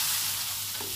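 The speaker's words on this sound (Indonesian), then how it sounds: "Ini oncomnya kita aduk terus sampai benar-benar mengering." Crumbled oncom, a fermented soybean cake, is stirred in a pan over a low flame, giving a soft, even hiss with a faint scrape near the end.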